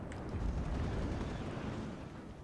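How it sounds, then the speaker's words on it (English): Counter-battery artillery fire in the war game WARNO: a dense, continuous rumble of overlapping blasts and booms, loud and steady throughout with slightly heavier impacts early on. "they are receiving counter battery fire"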